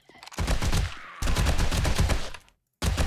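M60 machine gun fire in the video game 7 Days to Die comes as loud, rapid bursts of automatic shots, two long runs split by a short gap, then a brief silence before another burst starts.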